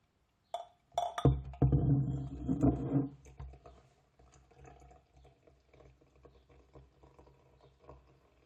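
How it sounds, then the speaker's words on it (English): Nøgne Ø pale ale poured carefully from a bottle into a glass, a gurgling glug and splash at first, then a quieter trickle with fizzing and small drips, close and alone. "this is the pour for you, fans"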